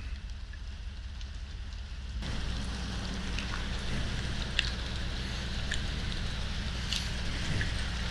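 Steady rain falls during a stop on a motorcycle ride, a continuous soft hiss with scattered drop taps that thickens after a couple of seconds, with no talk.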